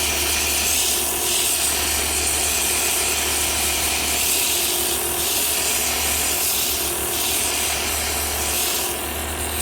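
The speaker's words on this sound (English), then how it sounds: "Now it's just going to take a little bit of sanding" Hand sanding of a wood-turned Christmas tree ornament on a lathe, working from 100 up to 120 grit paper; a steady, loud abrasive rasp runs throughout with a constant low motor hum beneath, rising in brief surges every few seconds.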